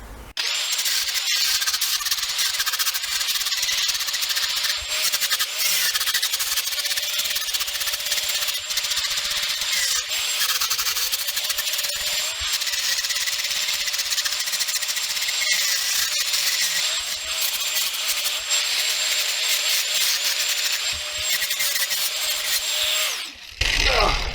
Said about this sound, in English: And the angle grinder. I've modified it, so it's basically a rasp